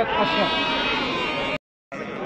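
Sheep bleat loudly and continuously at a busy weekly livestock market in Morocco, a close, sustained bleating that cuts off abruptly for a moment, with crowd chatter underneath.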